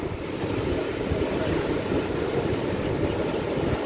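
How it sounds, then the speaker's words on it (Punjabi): Ocean waves wash steadily onto a beach in Bali, a continuous broad roar of surf with a gusty wind-like hiss and no voices. "ਛੱਲਾ ਮਾਰਦਾ ਪਾਣੀ ਸਮੁੰਦਰ ਦਾ"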